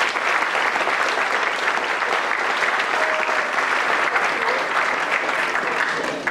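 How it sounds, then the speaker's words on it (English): An audience at a school holiday band and strings concert claps steadily throughout, a dense, even wash of applause filling a hall. "So applaud to those."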